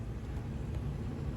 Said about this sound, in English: Sorry for the furnace noise, air conditioner just kicked back in.